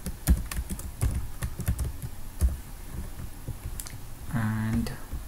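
Keys on a computer keyboard clatter in short irregular bursts of close, crisp taps as a password is typed, with a brief hum near the end.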